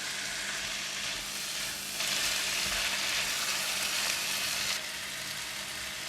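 Chicken and corn stir-fry with seasoning in a hot pan, giving a steady, even sizzle that swells louder for a few seconds in the middle, with no talking.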